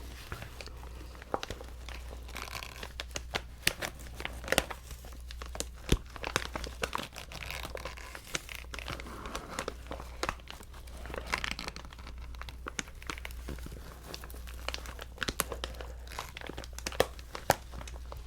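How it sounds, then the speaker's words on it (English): Material crinkled up close for ASMR, a continuous crackly rustle broken by sharp crisp crunches and tearing-like snaps at an irregular rhythm, with no talking. "Crinkle, crinkle, crinkle,"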